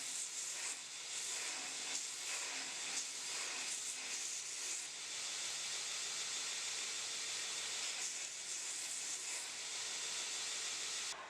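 An Origin blade maker belt grinder polishes a knife blade, giving a continuous, close, airy hiss of abrasive belt on steel that stays even throughout, with no voices.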